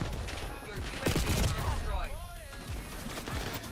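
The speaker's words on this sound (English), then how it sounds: "Them boys is shooting together" Teammates' gunfire in a Call of Duty match, a burst of overlapping shots and short volleys rattling across the scene beneath a voice talking over the game.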